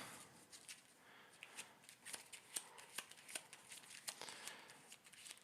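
Playing cards are shuffled close by for a tabletop card game, giving a quiet run of soft riffling snaps and rustles in an irregular rhythm, with no talking.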